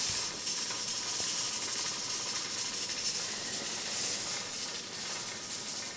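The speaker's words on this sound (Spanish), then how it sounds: "lo primero que voy a hacer es sofreír la panceta" Pancetta fries in oil with a steady, bright sizzling hiss that continues unbroken for several seconds, close and fairly loud.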